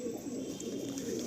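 Pigeons coo softly and continuously inside a loft in a brief, quiet stretch with no voices.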